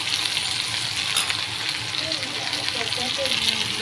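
Capsicum pieces fry in oil alongside an okra and meat curry in a Kuwaiti-style pan, giving a loud, continuous close sizzle with soft stirring scrapes mixed in.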